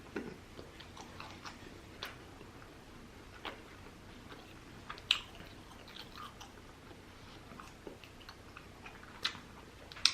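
Close, quiet chewing of a steak taco at a mukbang-style meal, with soft wet mouth sounds and scattered small crunchy clicks spread unevenly through the clip, and no talking.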